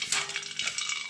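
A small piece of kurdai dropped into hot oil to test the heat, giving a bright crackling sizzle with fine popping bubbles, close and steady for about a second.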